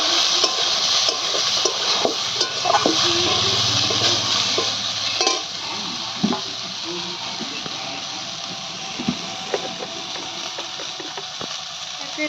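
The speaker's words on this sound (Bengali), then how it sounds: "আর এই সয়াবিনগুলো আমি একটু ভেজে নেব।" Soybean chunks fry in a pan with salt and turmeric, giving a steady background sizzle broken by occasional stirring scrapes and light clinks, moderately near and without speech.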